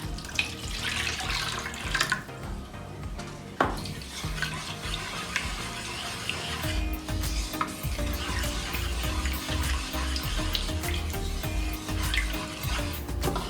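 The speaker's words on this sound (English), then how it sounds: "Get in some water." Tap water runs steadily into a container in a home kitchen during dumpling preparation with grated ginger, with occasional clinks and handling noises over the continuous splashing flow.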